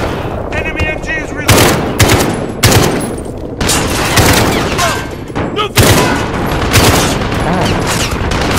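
Enemy machine gun in Call of Duty Modern Warfare (2019) fires repeated loud bursts close by, sharp cracks layered with other battlefield gunfire, with shouted voices mixed in.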